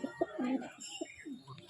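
Madrasi pigeons coo softly at a home loft, a few low burbling calls close by with faint chirps mixed in.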